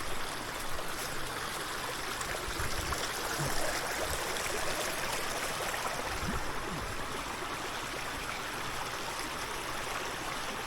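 Steady rushing and gurgling of a mountain stream flowing over rocks at Dereköy near Kemalpaşa, continuous and fairly close with a few louder splashes, no talking.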